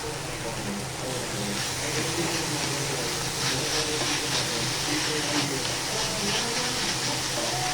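Salted leafy greens with a little turmeric fry under a lid, giving a dense, steady hiss that continues evenly throughout, with a voice talking faintly underneath.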